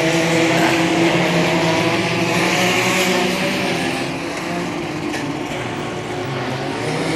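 Race cars roar off at the green flag at Macon Speedway, a loud dense blend of several engines that holds steady, then eases slightly as the pack moves away.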